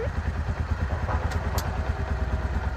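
A motorcycle engine runs just after starting, a steady low throbbing idle close by with a light clatter.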